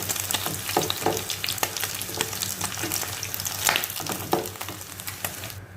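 Orzo (bird's tongue pasta) fries in a pan with a steady, close sizzle, broken by frequent scrapes and clicks as it is stirred, and no voices over it.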